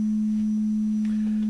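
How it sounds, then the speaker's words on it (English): A Qu-bit EON Eurorack module running alternate QAO firmware plays a standard sine wave oscillator: one steady, pure low tone holding alone at an even level for the whole stretch. "Standard sine wave oscillator."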